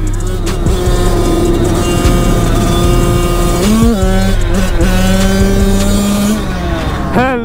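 A Yamaha YZ85 motorcycle engine revs loud and close, its pitch climbing and falling through repeated throttle blips with a rising whine near the end, continuous throughout.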